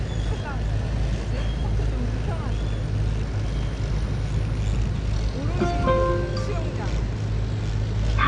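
A long-tail boat engine drones on a Bangkok river, a steady low rumble with water and wind noise, while a person talks nearby.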